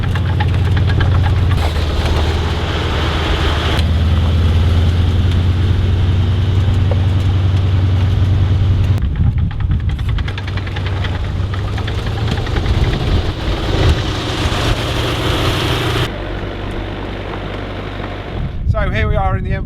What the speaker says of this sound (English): what we're going to do is just start the engine. We're going to move her backwards and forwards a bit